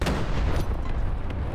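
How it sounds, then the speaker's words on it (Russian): A T-34 tank cannon fires in War Thunder Mobile, a heavy boom landing at the very start and rolling into a dense rumble that sustains through the short moment, loud and close with no voices. "Навелись, бабахнули."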